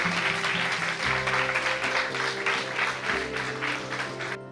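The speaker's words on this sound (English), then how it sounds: "Can you have a huge round of applause, ladies and gentlemen?" A large audience at a seminar applauds steadily for several seconds, dense clapping over a low musical hum, cutting off abruptly at the end.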